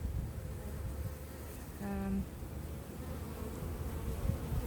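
Low, steady buzzing of honeybees close by around a hive box, with a brief louder hum as one flies past.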